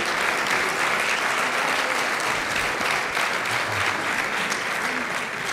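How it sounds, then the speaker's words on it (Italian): Warm applause for athlete Sara Simeoni at a Veneto sports gala, a loud, dense and unbroken wash of clapping from a large audience lasting throughout. "farei un altro calorosissimo applauso"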